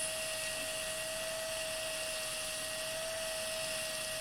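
A modified pedicure wand sanding raw clay gives off a steady, high, even electric whine with a constant hiss beneath it, running unbroken and close by.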